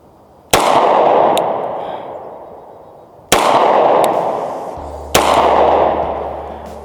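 Three sharp, loud gunshots from a Girsan 2311 Brat .45 ACP double-stack pistol firing 230 grain rounds at a range, spaced a few seconds apart, each with a long reverberating tail.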